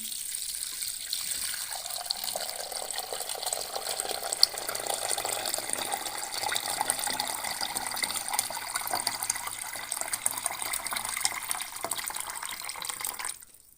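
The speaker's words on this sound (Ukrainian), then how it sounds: "ставимо баночки, заливаємо холодною водою." Cold water pours steadily into a cooking pot holding glass jars set on a towel, ready for canning cucumbers; a continuous rushing, splashing fill runs close and moderately loud for about fourteen seconds before stopping.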